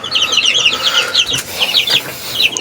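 Chicks cheep in a rapid, high chatter close by alongside clucking chickens, the peeping steady and dense across the whole short stretch with no voices.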